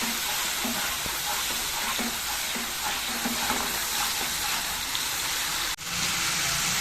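Spices with turmeric and salt fry in a pan, giving a dense, rain-like sizzle that holds steady throughout, with a brief sharp dip near the end.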